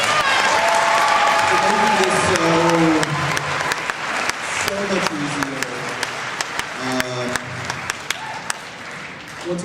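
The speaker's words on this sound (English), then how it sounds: "please give yourselves a huge, huge round of applause for being amazing" Audience applause fills a large hall at an anime convention's closing ceremony, a dense roar of clapping with cheers, loud and sustained for about three seconds before easing into lighter clapping while a voice talks over it.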